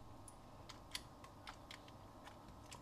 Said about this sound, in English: Cool, keyboard works.